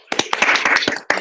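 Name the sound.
round of applause from meeting members on Zoom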